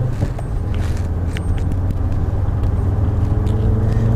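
Audi 80 five-cylinder engine running through its original exhaust, a steady low rumble heard from inside the car, continuous and fairly loud throughout.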